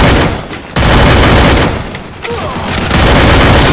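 Gunfire in a shooting video game, dense and loud, with sustained bursts of shots filling most of the clip and brief dips in between.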